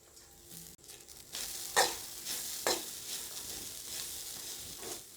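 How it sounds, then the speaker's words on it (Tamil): Grated coconut and ground chana dal filling for kozhukattai sautés in oil over a soft sizzle. A few scraping stirs stand out near the listener, with no talk. "இதை நல்லா எண்ணெயில் நல்லா வதக்கி விட்டுறேன்."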